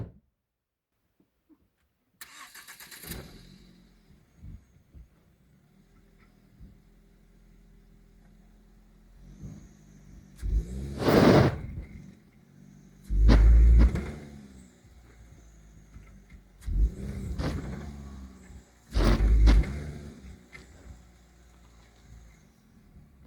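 A car's engine revs in repeated bursts while trying to drive up out of a ditch, several loud surges with brief quieter idling between them and no talking.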